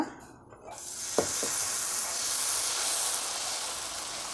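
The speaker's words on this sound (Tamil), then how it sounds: "நல்லா காஞ்ச உடனே நம்ம தோசை சுட்டுக்கலாங்க" Fermented dosa batter hitting a hot pan bursts into a loud, broad, continuous sizzle after a brief quieter moment, with a couple of quick scraping sounds as it is spread, then steady hissing to the end.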